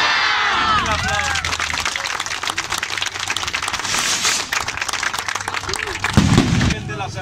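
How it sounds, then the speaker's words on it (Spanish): Crowd at a patronal festival in Coeneo receiving pilgrims clapping and cheering loudly, with shouting voices, scattered bangs like firecrackers and a low rumble, people talking amid the dense, uneven applause. "Un aplauso."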